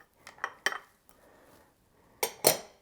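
Chopped zucchini drops into an Instant Pot pressure cooker, with a few quick clinks and taps of pieces and utensil against the metal pot, followed by a pause and two louder clattering hits.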